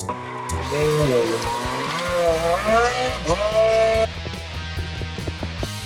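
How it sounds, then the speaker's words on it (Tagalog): A jet car built to run on water in Cebu revs hard, its engine whine climbing and falling in pitch through several surges before settling into choppy idling pulses. "Ito ang paandar na jet car."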